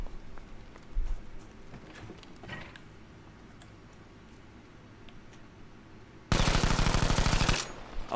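Automatic weapon fire in a Battlefield V shooting lane, one loud, close, rapid burst of about a second after quieter mechanical clicks and handling noises.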